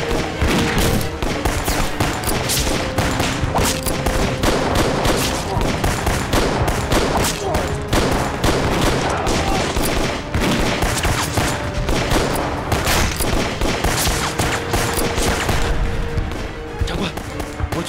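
Artillery bombardment and heavy gunfire in a war drama battle scene: loud, dense, continuous volleys of overlapping shots and booming blasts that fill the whole stretch without a break.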